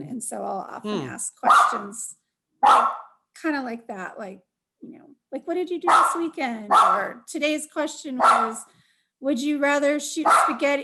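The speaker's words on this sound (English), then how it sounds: "Sorry about my dog." A dog barks in short bursts in a room, sounding intermittently between and under a person's continuous talking.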